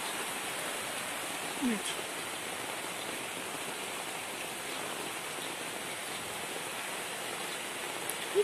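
Heavy rain pours down in an unbroken, even roar that fills the whole stretch, with a voice speaking briefly near the start.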